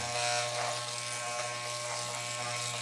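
Electric hair clipper fitted with a number 6 guard trimming a beard, a close, steady buzzing hum with a faint rasp as it moves through the hair.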